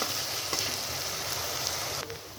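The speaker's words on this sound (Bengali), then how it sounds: "এবার আমি আদা রসুনের পেস্ট দিয়ে দিব এবার দিয়ে আরেকটু ভেজে নিব" Ginger-garlic paste fries in a pan for a fish head and pumpkin ghonto, a soft, even sizzle with a few faint stirring scrapes.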